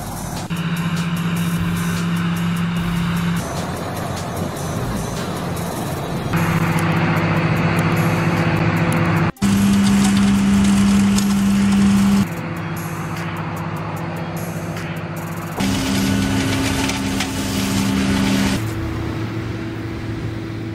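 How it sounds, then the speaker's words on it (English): Steady mechanical engine drone of tomato harvesting machinery working in a field, loud and continuous with shifting tones and an abrupt break partway through. "And now you can enjoy the harvest scene with realistic sound."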